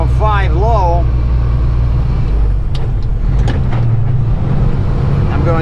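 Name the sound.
truck engine downshifting from 5 low to 3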